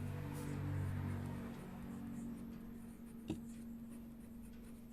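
Black ballpoint pen writing on paper, a faint, steady scratching with a soft tap partway through, heard alone at close range.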